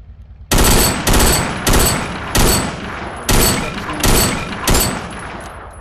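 Automatic weapon fire in a VR video game: seven loud, close bursts of rapid shots, each about half a second long, spaced evenly with short gaps between them.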